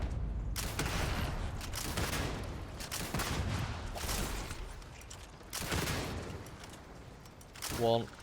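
Shotgun fire in the video game Starfield: several heavy, booming blasts spread across the stretch, each with a rumbling tail, plus a brief electronic tone near the end.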